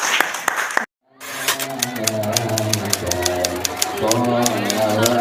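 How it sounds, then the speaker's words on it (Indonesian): Applause breaks out after a brief silence at an Indonesian testimonial gathering, dense clapping continuing under a steady musical backing and scattered voices. "tepuk tangan dong"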